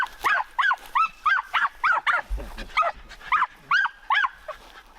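Hunting dog barking at a buffalo hunt in the Eastern Cape, a steady series of about a dozen sharp, evenly spaced barks with a low thump partway through, moderately close and clear over light background noise.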